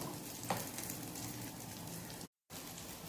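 Patties sizzling steadily in hot oil in a home kitchen as they fry until golden, a continuous close crackle and hiss with no voices.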